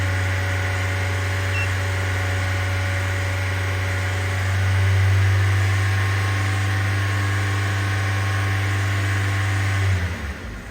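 A car engine revs up to a steady 2500 RPM and holds there for about ten seconds with a strong, even drone, then drops away sharply at the end.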